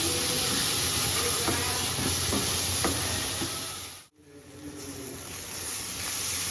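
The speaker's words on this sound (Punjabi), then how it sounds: "ਆ ਦੇਖੋ ਸਾਡਾ ਮਸਾਲਾ ਹੁਣ ਭੁੱਜਣ ਲੱਗ ਗਿਆ" Masala for besan sabzi frying in ghee in a pan, a steady loud sizzle and hiss with faint stirring clinks, briefly dipping to near silence before the sizzle returns.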